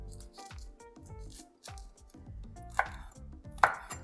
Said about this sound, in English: I'll slit the green chilies into half and cut it into bite-sized pieces